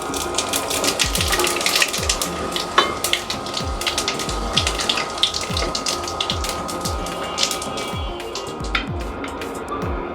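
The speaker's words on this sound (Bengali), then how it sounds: "এবার আমি কয়েকটা জিরা ফোড়ন দিলাম।" Cumin seeds sizzle and crackle in hot oil with bay leaves in a pan, close up, giving a busy stream of sharp pops and spits over a steady frying hiss.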